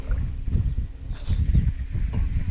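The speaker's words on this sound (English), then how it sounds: "Oh, I can't buck this wind." Wind gusting over open water beside a small fishing boat, a steady low rumble that swells and eases in waves, fairly loud and close, with no talking.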